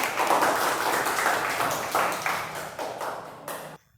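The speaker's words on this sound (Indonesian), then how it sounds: "tepuk tangan untuk Kesya" A classroom of eighth-grade students claps for a classmate during a maths lesson, a lively patter of many hands that thins out and stops abruptly near the end.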